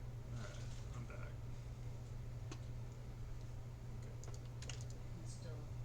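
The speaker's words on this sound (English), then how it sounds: "try typing" Faint keystrokes patter on a computer keyboard in short irregular bursts over a low background hum, quiet and close.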